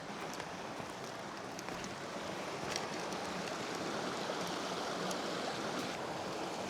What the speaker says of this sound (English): There's an interesting confluence of, I think, 3 streams coming together.